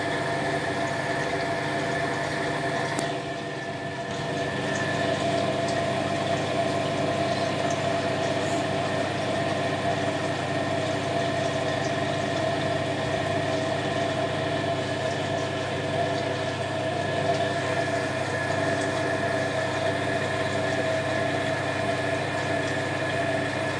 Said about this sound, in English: We're draining, but I'm not going to do an empty spin.